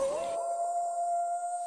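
A wolf howl sound effect used as a segment sting in a Mobile Legends esports broadcast: one long, steady, loud howl held for under two seconds.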